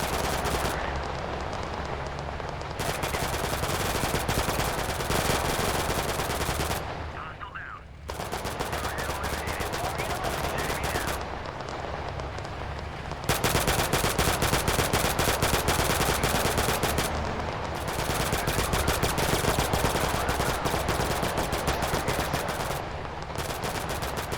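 Sustained automatic gunfire hammers at an armored vehicle in the video game Total Conflict: Resistance, loud and dense throughout with only brief dips in the volley.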